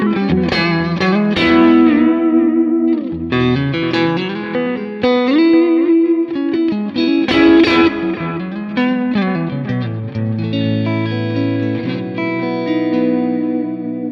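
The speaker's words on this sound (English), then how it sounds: "it sounds like a Vox with a bad presence filter" Electric guitar through a ToneX capture of a Vox amp with a dark, muffled tone, played as a continuous run of strummed chords and picked notes with reverb-soaked sustain, loud and close.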